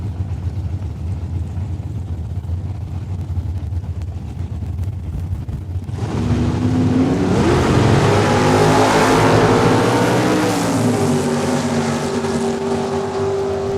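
A BBJ 5-star Camaro drag racing at Saskatchewan International Raceway, Saskatoon, its engine rumbling steadily before surging into a loud, sustained roar that carries on to the end.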